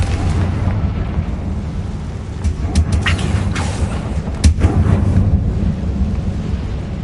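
Confringo blasting spell in Hogwarts Legacy, a loud rumbling explosive roar with several sharp crackling bursts layered over a heavy low boom, no talking.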